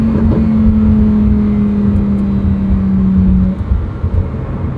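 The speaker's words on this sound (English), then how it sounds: "that's a drive in a Lamborghini Huracan Super Trofeo Amalgata" Lamborghini Huracan STO engine on a street drive, a loud close droning roar holding a steady pitch and then dropping off as the throttle eases.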